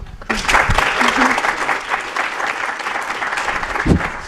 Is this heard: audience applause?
yes